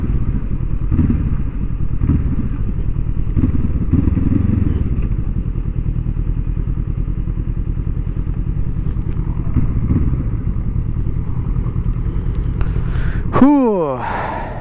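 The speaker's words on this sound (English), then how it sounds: "Nice sound of the exhaust at a low pace" A Honda CL 500 motorcycle burbles steadily at low pace on a racing track, its exhaust a loud, close, continuous rumble, briefly swelling with a rising whine near the end.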